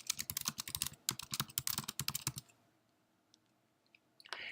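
Fast, close clicking of typing on a computer keyboard, a dense run of keystrokes for about two seconds that then stops, leaving near silence before a faint noise at the end.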